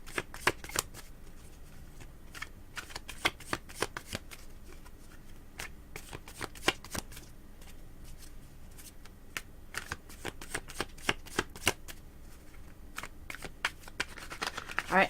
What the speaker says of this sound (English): I'm shuffling those cards, okay, really well